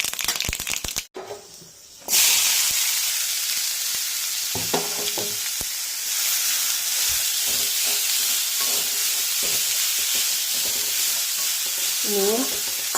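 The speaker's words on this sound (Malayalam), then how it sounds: "അതിലേക്ക് എണ്ണ ഒഴിച്ച് എണ്ണ ചൂടായിട്ടുണ്ട് കടുക് ഇട്ട് കൊടുത്തു ഈ കടുകിലേക്ക് നമ്മുടെ തോരൻ്റെ കൂട്ടി ഇട്ട് കൊടുക്കാം" A thoran vegetable mixture drops into hot oil with popping mustard seeds and fries with a loud, steady sizzle and hiss, with occasional stirring clinks and scrapes close by and no talk.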